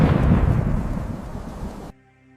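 A thunderstorm on a winter night: a loud, heavy roll of thunder rumbles continuously for about two seconds, then cuts off abruptly to near silence.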